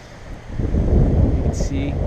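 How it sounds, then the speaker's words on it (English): Strong wind buffeting a microphone outdoors, a heavy low rumble that swells and gusts, with a voice briefly heard. "it's pretty windy out here"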